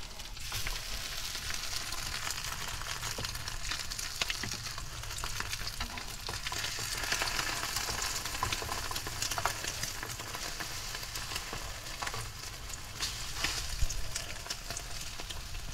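Steady, crackling sizzle of bread frying in a hot pan inside a camper van, continuous and close, with no voices.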